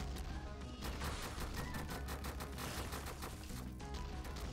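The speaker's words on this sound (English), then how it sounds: "All I can see is rockets." A rocket barrage in the modded game Binding of Isaac Repentance, a dense continuous rattle of rapid explosive bursts and crackling impacts, steady and busy throughout at a moderate level, with no voices.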